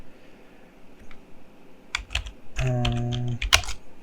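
A computer keyboard taps out a quick burst of typing, with a few scattered clicks first and then a dense run of keystrokes, close and fairly loud. A faint tone sounds underneath. No voices are present.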